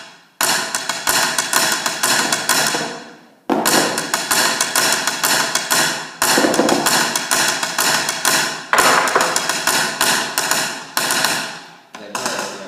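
A snare drum plays the top line of a duet in rapid, crisp strokes grouped into driving phrases, with brief gaps between passages and a close, bright attack on every hit.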